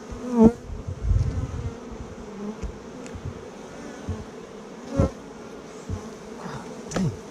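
Honey bees buzzing during a hive removal, a close, continuous drone of many bees with occasional louder passes near the microphone and a few knocks, without talk.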